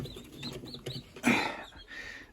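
Pigeon chicks give soft cooing and chirping calls at close range, a few short bursts with one louder rustling call, over a faint background.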